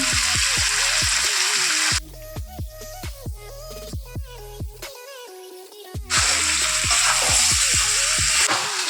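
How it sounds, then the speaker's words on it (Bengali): Chicken sizzles loudly in a hot pan with salt as it is fried down for mugh dal chicken, with a steady hiss that is strongest at the start and end. A melodic tune plays alongside throughout. "মাংসটা খুব সুন্দর করে কষা হয়ে গেছে"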